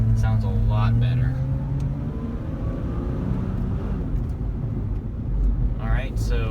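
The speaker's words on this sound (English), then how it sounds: "So we're taking the car out for a test drive" A car on a test drive after its loose lug nuts were fixed, with a steady engine drone and road rumble that swells slightly near the end. Brief voices are heard at the start and finish.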